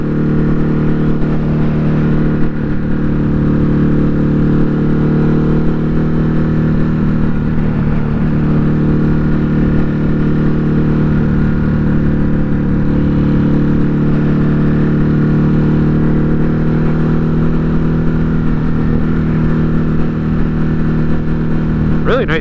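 A Ducati Hypermotard 950 RVE motorcycle cruises along with a steady, close engine drone and strong harmonic hum, engine note rising and falling gently through gear changes alongside continuous wind noise.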